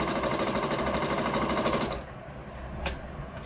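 A Singer Monami household sewing machine runs a simple straight stitch at full speed. It gives a rapid, even mechanical chatter for about two seconds, then stops abruptly and leaves a quiet hum and a single click.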